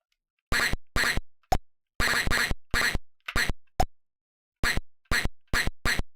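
Digitized duck quack sample in the Atari ST video game Illogicoma, fired in rapid bursts: a dozen or so short, loud quacks in irregular clusters separated by dead silence.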